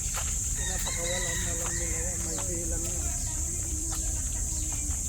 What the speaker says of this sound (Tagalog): Family of chicken.